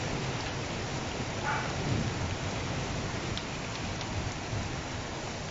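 Heavy rain with hail pounds steadily on surfaces and tarps during a storm in Turin, Italy, a dense continuous roar close by with no pauses.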